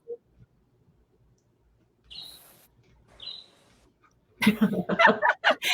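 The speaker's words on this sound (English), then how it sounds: "I hear the birds chirping in the background." Two short, high chirps from a bird a second apart in a quiet space, faint and distant, followed by louder nearby rustling and clatter.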